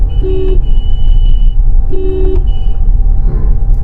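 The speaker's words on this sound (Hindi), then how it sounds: "हॉर्न दो।" A car horn honks twice in short bursts over the low rumble of a running vehicle, with a fainter third toot near the end.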